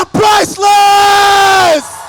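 A loud group shout from a self-development seminar audience, a short burst and then a long sustained yell that holds steady before cutting off, close and intense.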